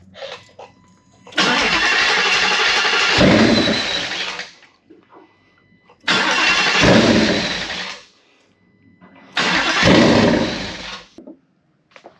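A Gen 3 Coyote engine swapped into a 1993 Fox Body hatchback cranks and fires three times. Each loud burst lasts a few seconds and dies away rather than settling into an idle, with short pauses between.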